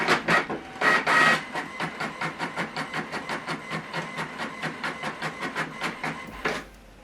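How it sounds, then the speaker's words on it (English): HP printer printing a double-sided black-and-white document, a close, regular mechanical clatter of rapid rhythmic pulses with a few heavier thumps at the start, ending in a soft hiss as it stops. "Now this document is going to print."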